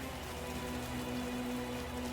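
Steady blue rain falling in the video game Path to Nowhere, a dense, even hiss of drops that holds unchanged throughout, with a faint low tone sustained underneath.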